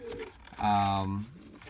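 A racing pigeon gives a single soft coo lasting about half a second, close by and fairly quiet, in a loft during breeding season.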